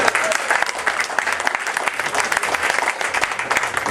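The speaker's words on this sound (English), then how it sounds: "Round of applause for Rob, everyone." Guests at a wedding reception give the best man a round of applause during the groom's speech, a loud, dense and continuous clapping from a sizable crowd that stays even from start to finish.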